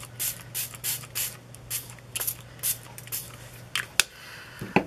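A clogged spray bottle mists Inktense ink in a string of short, soft hissing bursts, roughly one every half second, close and fairly quiet over a low steady hum, with a sharp tap near the end.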